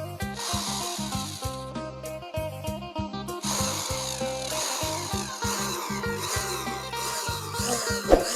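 A power drill bores holes into a blue pipe for a Thai bang tai lai firework rocket, giving a close, steady whirring grind with regular pulsing as the bit cuts. No one speaks.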